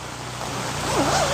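A waterfall rushes behind a camping spot at Kancana Mandira as night falls, a steady close wash of falling water with a brief whistling tone near the end.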